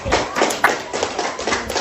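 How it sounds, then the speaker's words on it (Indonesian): Brief group hand clapping in a classroom, a few sharp claps at an uneven pace, moderately loud, with faint voices around. "Tepuk"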